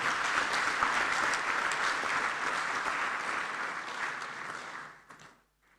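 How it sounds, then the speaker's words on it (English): Crowd applause in a parliament chamber, sustained, even clapping that gradually thins and fades out near the end. "Please, let's give them an applause."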